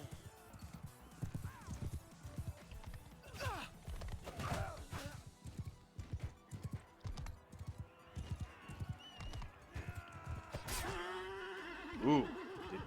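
Horse neighing in the video game Mount & Blade Bannerlord II, amid battle noise with rapid hoof clip-clop and clatter, and a loud whinny rising near the end.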